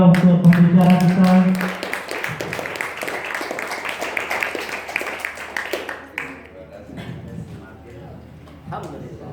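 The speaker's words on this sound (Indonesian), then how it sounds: "Sekali lagi pada teman-teman memberikan tepuk tangan yang meriah untuk pembicara kita." Applause from a seminar audience at a university program anniversary event, broad sustained clapping over the first six seconds that then fades into scattered claps and murmuring, with talk around it.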